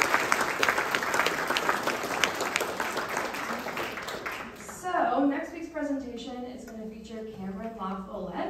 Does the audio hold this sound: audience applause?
yes